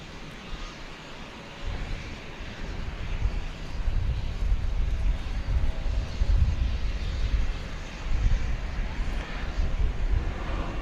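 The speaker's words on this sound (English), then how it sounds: "American flight 2235. It's an Airbus A321neo." At night at DFW Airport, an American Airlines Airbus A321neo makes a distant, low rumble of jet engines that swells gently and fades across the stretch, with wind noise but no voices.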